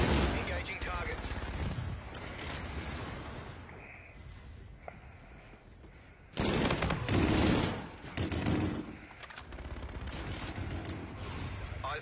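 Gunfire from the Atlas LMG light machine gun in Infinite Warfare, heard as dense, heavy bursts of shots mixed with booming impacts, loud throughout, with a stronger surge partway through.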